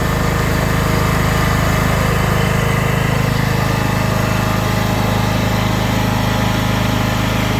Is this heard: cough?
no